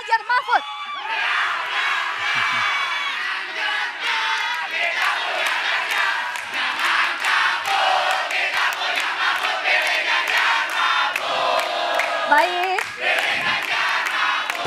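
A crowd of political supporters at a presidential debate event cheers, whoops and chants loudly for a long stretch, with clapping and a brief voice from a speaker over the din.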